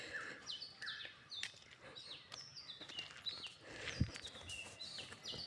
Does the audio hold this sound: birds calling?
yes